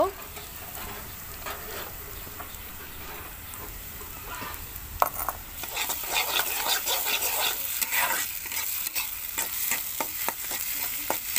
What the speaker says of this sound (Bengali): এখন এই পেঁয়াজের সাথে রসুন মরিচটা ভালো করে ভেজে কষিয়ে নিতে হবে।